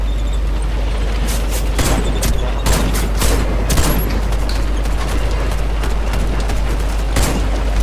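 Rapid gunfire aimed at a tank in the shooter game Warface, loud dense bursts of shots over a heavy rumbling low drone, close and continuous without talk.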